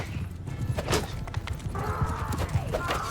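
Horse hooves clip-clop in a steady rhythmic beat during a medieval battle in Mount & Blade 2: Bannerlord, with a brief whinny and faint mechanical clatter in the background.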